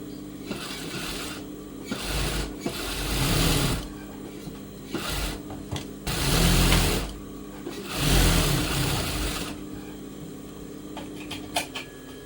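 A sewing machine stitches piping around a blouse neckline in several short bursts of whirring, close and moderately loud, separated by pauses while the fabric is turned.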